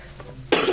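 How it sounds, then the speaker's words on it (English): A single sharp cough bursts out abruptly after near silence, close and fairly loud, then trails off with a rough throat-clearing tail. "That voice made me cough."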